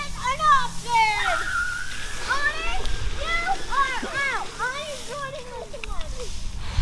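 Water sprays and splashes at a water park during a hot summer afternoon, a steady wash of spattering water under excited children's voices and shouting close by throughout.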